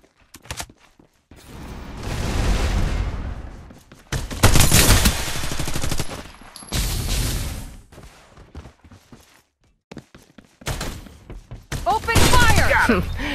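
Bursts of automatic gunfire in the mobile shooter Farlight 84, played on an iPad mini 6 in a hot-drop fight: loud, close volleys that stop and start, with short quiet gaps between them.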